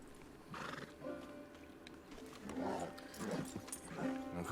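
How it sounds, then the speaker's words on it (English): A horse in the video game Red Dead Redemption 2 whinnies and snorts amid clip-clopping hooves, several rough neighing bursts close by over a faint ambient bed. "This is a big fucking horse."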